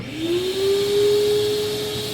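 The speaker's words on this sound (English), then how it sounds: "the vacuum going." A vacuum cleaner spins up at a stone-carving bench where fire agate is being worked, its motor whine rising quickly then holding a steady loud tone over broadband airflow hiss, close by and without voices.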